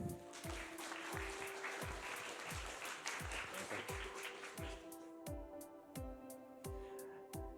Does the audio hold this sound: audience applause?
yes